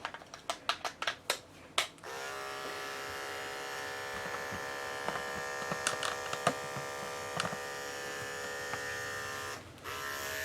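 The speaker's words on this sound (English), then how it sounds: "I'm going to come back with my 10 blade here in her private area" Dog grooming clippers fitted with a 10 blade, used on an aggressive mini doodle, start after a quick run of sharp clicks and then buzz in a steady, close electric hum with occasional taps.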